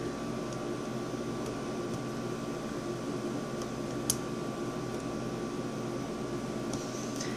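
A room air conditioner runs steadily through a muggy indoor space, a constant broadband hum and hiss with no talk, a faint click briefly rising near the four-second mark.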